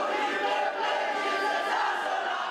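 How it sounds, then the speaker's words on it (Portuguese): Vasco da Gama football supporters in a crowd at Manaus International Airport chant and cheer in a steady mass of voices, moderately loud and continuous. "Expectativa e muita animação da torcida cruz-maltina."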